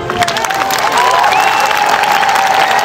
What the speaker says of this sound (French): Mesdames et messieurs, on peut les applaudir bien fort.